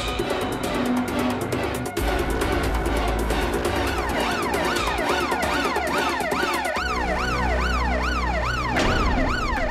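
A police car siren wails loud and steady, its sweeping up-and-down tone carrying over a dense layer of dramatic background music with no speech.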